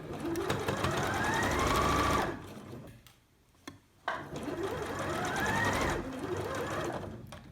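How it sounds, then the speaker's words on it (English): A sewing machine stitches a fabric face mask with a 1 cm seam guide, two loud close runs of rapid whirring that rise in speed, separated by a short pause with a faint click. "So I am sewing this on my 1 centimeter guide."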